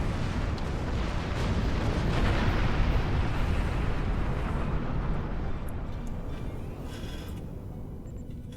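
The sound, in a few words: phaser fire in video game Star Trek Online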